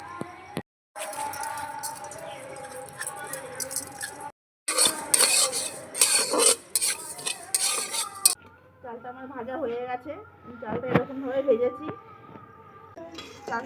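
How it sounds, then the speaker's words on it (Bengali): Gobindobhog rice dry-roasting in a pan, heard as close scraping and clinking of a utensil against the metal in bursts with short pauses, with a voice speaking over parts of it. "এই চালগুলো আমি শুকনো খোলায় হালকা করে ভেজে নেবো"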